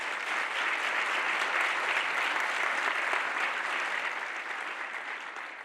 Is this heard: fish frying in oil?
no